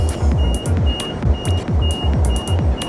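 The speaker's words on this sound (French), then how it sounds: "C'est une alarme pour indiquer qu'il va trop vite" A bus overspeed warning alarm: rapid repeating electronic beeps in a steady rhythm, loud and close, over a low engine rumble inside the moving bus.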